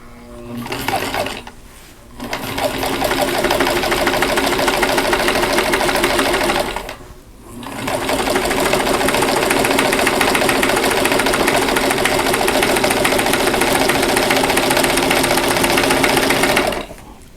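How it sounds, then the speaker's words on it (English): A sewing machine stitches quilt blocks along a drawn diagonal line, running in loud, steady, rapid mechanical bursts with two brief pauses between runs, close up and without talk. "I'm going to sew right on there"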